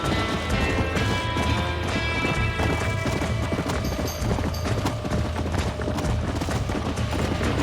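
Horse hooves clattering in a fast galloping rhythm as a stallion escapes in the Red Dead Redemption video game, a steady busy clip-clop under game music and effects.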